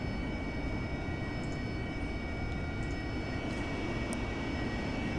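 The engine of an A8V aircraft in the flight simulator DCS World drones steadily and loudly on a straight-in landing approach. A broad roar carries faint high whines on top, with no voices.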